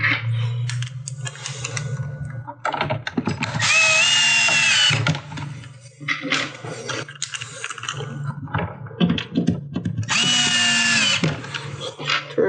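A power drill drives silver screws into the board of a CG 1500 Kulp K16 build kit in two loud, close, sustained whirring bursts separated by quieter handling noise.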